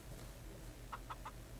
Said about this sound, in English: How you kill this chicken?